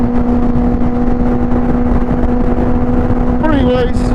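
A 2005 Honda motorcycle hums steadily while being ridden home, with wind roar and a constant engine drone, and a brief rising tone near the end.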